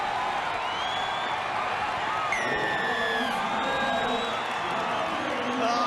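Packed stadium crowd at a 2001 Parramatta versus North Queensland rugby league match roaring after a try, a dense continuous wall of cheering with whoops and whistles rising above it, a commentator talking over it.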